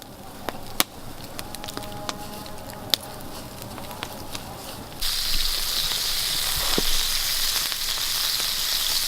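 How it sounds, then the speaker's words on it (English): Bacon and eggs fry in a pan over an outdoor campfire, a steady sizzle that swells louder halfway through, sprinkled with sharp pops and crackles. "Bacon and eggs are cooking."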